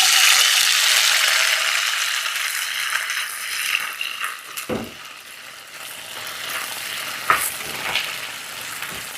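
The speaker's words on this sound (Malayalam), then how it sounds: "ആദ്യം നമുക്ക് ഈ ഉള്ളിയും വെളുത്തുള്ളിയും നന്നായിട്ടൊന്ന് വഴറ്റെടുക്കാം" Whole onions and garlic are sautéed in a pan for chammanthi, a loud close sizzle of frying that fades gradually, broken by spoon stirring and scraping clatters.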